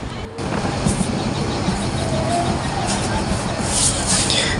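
The Paryatak Express intercity train runs at full speed between Dhaka and Cox's Bazar. It makes a steady, loud, broadband rumble with rattling undertones, heard close from inside the carriage.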